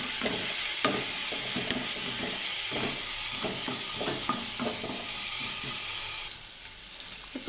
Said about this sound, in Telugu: ఇప్పుడు కొద్దిగా అల్లం వెల్లుల్లి పేస్ట్ వేసుకుంటున్నాను, 1/2 స్పూను. దీన్ని కూడా 1 నిమిషం పాటు వేగనివ్వాలి.